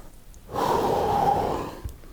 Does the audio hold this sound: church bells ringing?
no